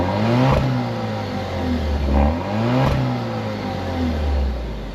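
The 2-liter engine of an Alfa Romeo Stelvio Veloce revs in three distinct blips, each rising sharply in pitch and then falling back to a steady idle, heard close and clear with no talk over it.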